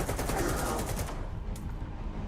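An AK rifle in S.T.A.L.K.E.R. 2 fires a quick rapid burst of close, sharp shots, then fades into a lingering echo and low rumble.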